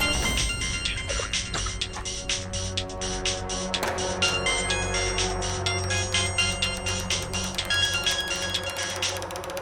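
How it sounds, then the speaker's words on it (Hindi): Phone ringtone playing repeatedly in a rapid, insistent pattern, loud and close, with no talking over it. "किसी का फोन आ रहा है बार बार"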